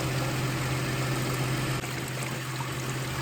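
A Toyota Camry 30 engine idles during an automatic transmission oil change: a steady, continuous low hum with a broad mechanical hiss, close by and unchanging, with no talk.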